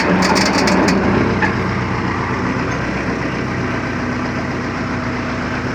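A tractor-drawn RMD-1000 fertilizer spreader loaded with granulated chicken manure, running with a loose rattling plate. A steady, loud engine drone carries through, with a brief burst of metallic clatter near the start.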